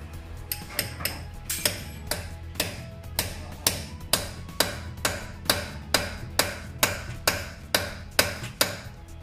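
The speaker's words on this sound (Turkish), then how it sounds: "İyice çakıyorum" Hammer striking a locking wheel lug nut to loosen it, about twenty sharp metallic blows in a steady, even rhythm, close and alone with no talk.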